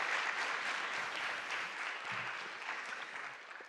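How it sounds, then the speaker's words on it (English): A round of applause fills a diversity awards ceremony hall: dense, even clapping from a sizable audience that tapers slightly toward the end, heard without talk over it. "Round of applause."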